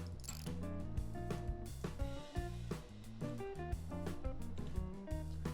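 A zipper machine runs inside a video game factory, giving a steady mechanical ratcheting clatter with gear-like clicks repeating over a constant drone, continuous and fairly loud with no talk.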